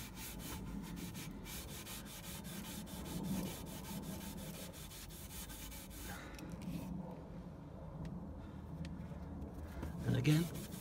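A cloth rubs polish into an exhaust downpipe with light pressure, giving a soft, steady scrubbing and swishing that continues for about eleven seconds and stays faint and close.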